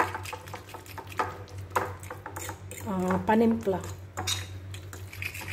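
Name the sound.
stirring lemon garlic tahini dressing for grilled eggplant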